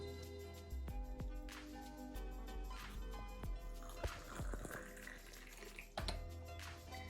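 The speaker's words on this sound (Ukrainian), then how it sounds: "Заливаємо у білий чайничок." Water is poured into a small white teapot while gongfu-style Chinese tea is brewed, giving a steady trickling pour with soft clinks of teaware over a faint background hum.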